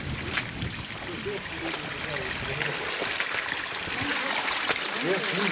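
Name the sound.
running water stream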